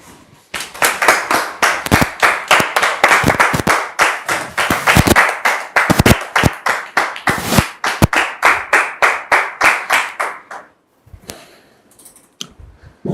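A studio audience at a church television programme applauds as a pastor guest arrives. The loud, dense clapping falls into a rhythmic, unison beat for about ten seconds, then stops abruptly, leaving a few faint scattered sounds.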